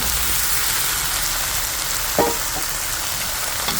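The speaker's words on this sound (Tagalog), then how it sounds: "Mabilis lang natin siyang igisa guys." Sponge gourd (patola) sautés in a pan with a loud, continuous close sizzle, broken briefly by a stirring scrape and heard alone.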